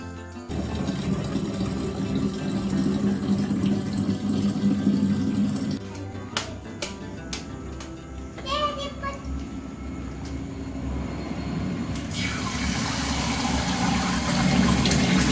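Tap water runs steadily into a kitchen sink while cups are washed, with a short break filled with clinks and knocks of the cups. Then the water flows again as water bottles are filled.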